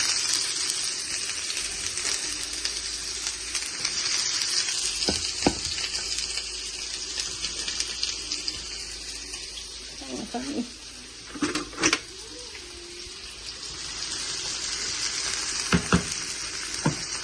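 Onions fry in a pan for mushroom bhaji, a continuous close sizzle running throughout, with occasional utensil knocks and clatters and a brief burst of stirring partway through.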